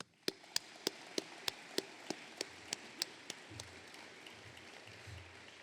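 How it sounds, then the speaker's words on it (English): At a military change of command ceremony, about a dozen sharp, evenly spaced claps ring out one by one, fairly faint against a quiet room, before fading into low background rumble. "please join us in a round of applause for all of our distinguished guests"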